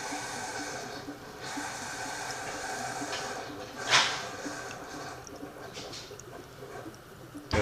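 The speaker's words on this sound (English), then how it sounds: "That noise is my wife making me a delicious cup of our vegan coffee" A coffee machine hissing in a home kitchen while vegan coffee is brewed. The low, steady hiss and gurgle sits in the background, with a brief louder burst of steam partway through and another at the end.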